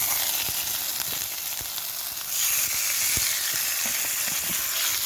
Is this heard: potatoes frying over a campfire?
yes